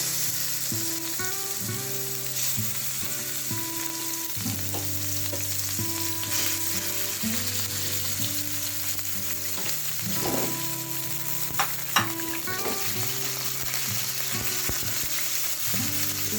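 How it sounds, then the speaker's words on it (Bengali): Chicken pieces frying in a little oil in a kadai on a stove, giving a steady, close sizzle that runs throughout, with a faint tonal hum in the background. "এখন এটার ভিতরে আমি যে চিকেনগুলো কেটে রেখেছি সেটা দিয়ে দেব।"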